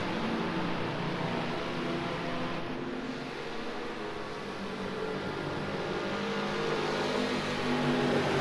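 Race cars, a big Mercedes and a Ford Escort, roar together through a corner in a touring car race, a continuous engine drone with rising revs and steady track noise.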